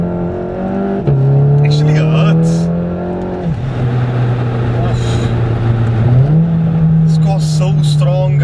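A VW Golf Clubsport S pulls hard in first gear, its engine note rising in loud, steady sweeps with shifts in pitch around gear changes, close and continuous beneath someone talking.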